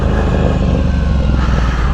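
A Ducati Scrambler motorcycle with a Competition Werkes slip-on exhaust rumbles loud and close in a deep, steady, throbbing idle or low-rev note, with no talk.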